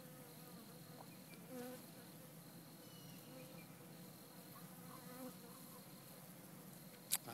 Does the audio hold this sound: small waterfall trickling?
no